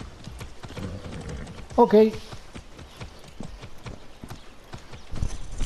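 Horse hooves clip-clopping at a steady walking rhythm while riding in the video game Far Cry 6, close and continuous, with a brief whinny and a short spoken word partway through.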